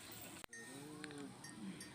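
A water buffalo gives a low, drawn-out moo, heard faintly at a moderate distance after a sharp click, with quiet outdoor background around it.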